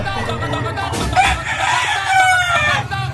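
A Peruvian gamecock rooster crows loudly and close by in a farmyard, one sustained call rising over steady background noise, with a low murmur of other sounds underneath.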